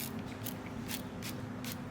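Several quick, soft hissing spritzes from a spray bottle during an acrylic/polycarbonate window installation come in an uneven rhythm over a quiet background, close by.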